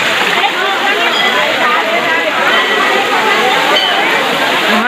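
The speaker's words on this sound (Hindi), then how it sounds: "वहाँ से नेचुरल वाला वाटरफॉल आ रहा है।" Loud, continuous splashing rush of a natural waterfall heard up close, a dense, even roar with churning water texture and no pauses throughout.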